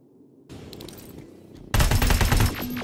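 Gunfire in the video game Terminator: Resistance, starting as a moderate burst of shots, then swelling into a loud, dense fusillade of rapid automatic fire that continues to the end.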